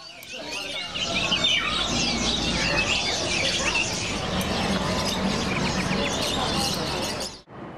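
Dense chorus of caged pet birds in a Hong Kong bird shop street, many chirps and tweets overlapping continuously at close range, fairly loud, cutting off abruptly near the end.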